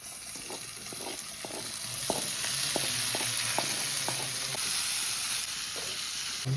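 Pieces of elephant foot yam fry in oil with a loud, continuous sizzle, while a spatula scrapes and taps the pan in a steady rhythm close to the microphone.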